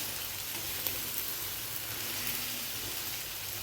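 Brinjal bharit, a mashed eggplant mixture with plenty of coriander, roasts on a hot tawa with a steady, soft hiss and sizzle. The sound is close and continuous, with no talk.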